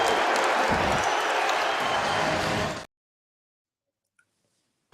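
Teammates at a hockey game applaud as a player heads down the tunnel, a dense burst of clapping and crowd noise that cuts off abruptly into silence.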